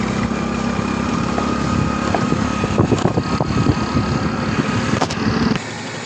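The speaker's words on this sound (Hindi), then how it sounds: "ये ट्राला जा रहा है ईंटों का।" A truck trailer loaded with bricks drives past on a road with a continuous loud engine rumble and clattering, a near passing vehicle noise that drops away abruptly near the end.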